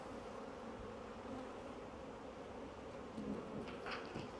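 Bees buzz in a dense, continuous hum around an open beehive, a soft, low drone that holds steady throughout with a few slightly louder passes near the end.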